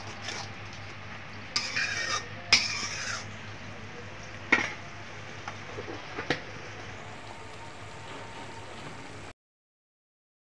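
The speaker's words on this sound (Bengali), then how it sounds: "আমি এখন মশলাটা ভালো করে কষিয়ে নিব।" Spice masala of chili and coriander powder with salt being stirred and fried in a pan, soft continuous scraping and faint sizzle punctuated by a few sharp clinks of the spoon against the metal.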